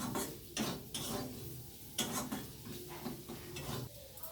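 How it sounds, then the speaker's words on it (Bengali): Pasta sauce with spices being stirred in a pan, soft rhythmic scrapes and light clinks of a utensil against the pan with faint sizzling, quiet and close. "ভালো করে নেড়ে চেড়ে নিচ্ছি"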